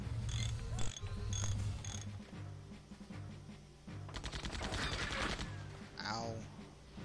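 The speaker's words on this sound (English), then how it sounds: "I'm however gonna have Maya shoot at that guy." Rapid bursts of rattling gunfire from the Septerra Core video game, a quick ratcheting volley near the middle of the clip amid clicks and mechanical game effects, with low music underneath.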